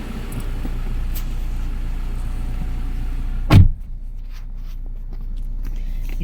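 A car engine idles with a steady low rumble and a faint hiss, broken midway by a single heavy thump like a car door shutting. No voices are heard.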